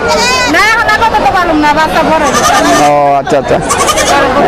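Goats bleat repeatedly and loudly at a livestock market, several wavering, overlapping cries close by, with a babble of people talking underneath.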